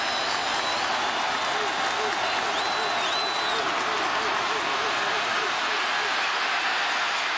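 A bowl-game football crowd of Penn State and Georgia fans on their feet cheers and roars steadily, a dense wash of noise with no single voices standing out.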